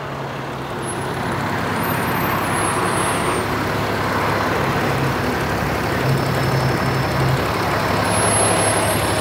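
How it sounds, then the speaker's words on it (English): A big truck rumbles along a busy city street in Halifax, a loud, continuous roar of engine and road noise with faint high squeals, swelling gradually as it passes close by. "Oh, big truck."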